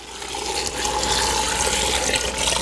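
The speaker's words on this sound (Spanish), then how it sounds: "Vamos a agregar el agua." Water pours steadily into a pot of beans being cooked for frijoles rancheros, a continuous close splashing rush that stays loud and even throughout, without talk.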